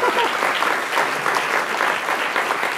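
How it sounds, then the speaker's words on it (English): A lecture audience in a hall breaks into steady, dense applause that runs throughout at full strength, with no voice over it. "I could get people to clap 2 + 3 = 5, so I win."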